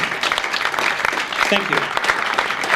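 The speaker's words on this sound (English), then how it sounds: "give him a big round of applause" An audience applauds in a steady round of clapping, fairly close and loud, as someone briefly says thanks over it.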